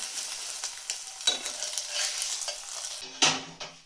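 A potato pancake fries in a pan with a steady, close sizzle, and a spatula scrapes and stirs through it before a brief louder clatter near the end; no one talks.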